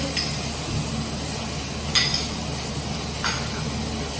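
Ginger paste sautés in a pan for a no-onion, no-garlic paneer white gravy, giving a steady, low sizzle broken by a few light clinks of a utensil.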